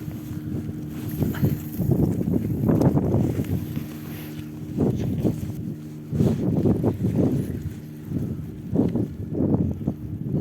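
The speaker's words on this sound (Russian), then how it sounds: "Здесь ветер. Открытое место." Steady wind on open ground by a river near Yakutsk buffets the microphone in gusts, a low roaring rush that swells and fades with no talking.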